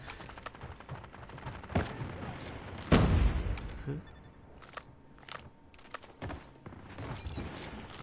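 Gunfire in the mobile game Call of Duty Mobile with a Krig 6 rifle, scattered shots and one heavy burst of firing over steady game noise, while players talk throughout.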